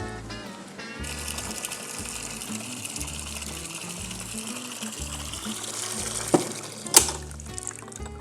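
Water runs in a steady rushing stream beneath a low mechanical hum, with a couple of small knocks near the end.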